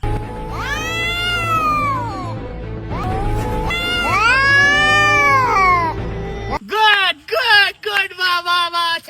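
A cat gives loud, long, drawn-out wailing meows, then a quicker series of shorter, sharper meows after an abrupt change in the background.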